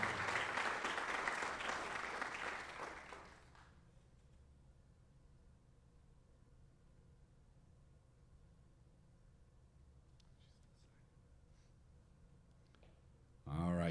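An audience at a high school signing day applauds a softball player signing her letter of intent, with loud clapping for under four seconds, then quiet room tone until a voice begins at the end.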